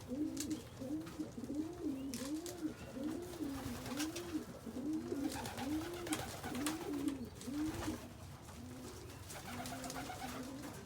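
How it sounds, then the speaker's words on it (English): Pigeons coo steadily in a loft, a repeated rolling rhythm of low calls continuing throughout, with faint shuffling and wing sounds around them. "Just wanted to give you all a view of the birds coming into the loft."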